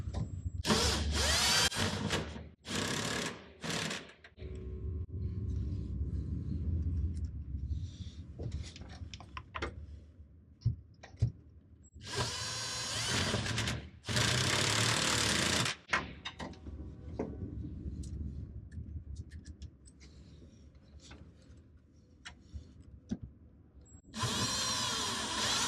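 A power tool drives bolts down on a seat track in a 1967 Shelby GT-500, with loud close bursts of whirring interspersed with clicks, clanks and quieter handling noises between runs.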